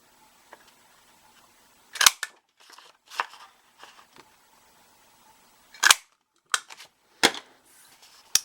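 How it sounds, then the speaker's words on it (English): A scallop edge border punch snapping through cardstock for a decorative paper border, a series of sharp crisp clicks and crunches in uneven bursts, close up with quiet pauses between. "I'm going to use my scallop edge border punch to punch a decorative border"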